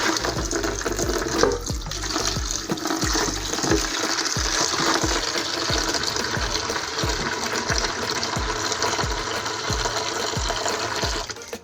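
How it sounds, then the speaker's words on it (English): Tap water gushes steadily onto a Homelite blower filter sitting in OxiClean, a continuous bright splashing with faint rhythmic tapping throughout. "gonna run some water on it"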